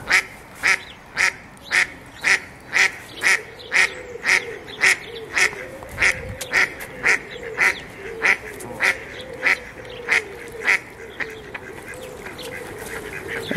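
Ducks quack and honk in a steady run of loud, evenly spaced calls, close by and with no talking.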